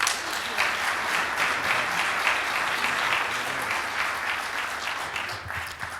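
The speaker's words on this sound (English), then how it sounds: "I want to give you another big round of applause." Sustained audience applause at a Rotary meeting, dense and even clapping from a room full of people that holds steady for several seconds before easing slightly.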